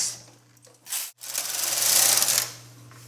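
A knitting machine carriage sweeping across the needle bed for two rows, a loud rasping slide that swells and fades, with a brief gap between passes over a steady low motor hum.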